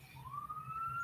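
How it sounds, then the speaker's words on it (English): An emergency vehicle siren wails with a steadily rising pitch, moderately distant and continuous under a low background rumble. "Oh, here we go with sirens again"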